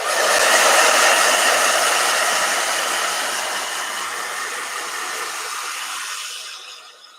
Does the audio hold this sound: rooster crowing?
no